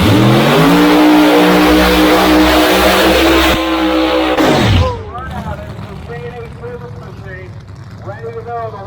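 An old Ford drag racing car at the 50th Snow Bird Nationals fires up with a loud, steady roaring drone for about four seconds, then cuts out abruptly. An announcer talks over the quieter track noise that follows.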